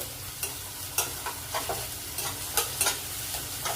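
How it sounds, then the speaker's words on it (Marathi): Vegetables frying in a pan on low heat as chopped tomatoes go in, with a steady quiet sizzle and several sharp scraping stirs and clinks of a spatula against the pan, no voices. "आता त्याच्यात मी हे टॉमॅटो टाकून घेत आहे"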